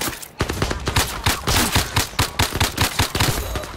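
Rapid bursts of gunfire in the VR shooter Zero Caliber, a steady run of loud, evenly spaced shots crackling close by without pause.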